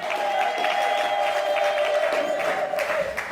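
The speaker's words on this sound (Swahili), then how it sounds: "kisha mpe Yesu shangwe na vigelegele." A church congregation at a revival gathering cheers and ululates with steady, loud crowd noise, a sustained high trilling tone running through the whole stretch without pause.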